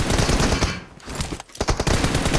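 Dense automatic gunfire from a PUBG Mobile match, loud and close, with rapid bursts that dip briefly in the middle before resuming in fast, crackling volleys.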